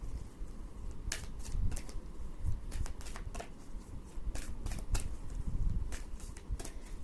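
Tarot cards, slightly sticky, are shuffled by hand close up, producing repeated crisp riffling bursts and soft flicks in an irregular rhythm with no talking.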